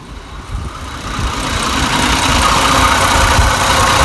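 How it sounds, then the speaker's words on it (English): A 2002–2006 Toyota Camry 3.0L V6 idles with its radiator cooling fans running, giving a steady low engine hum under a broad rushing whoosh that grows slightly louder and holds. "the fans have come on"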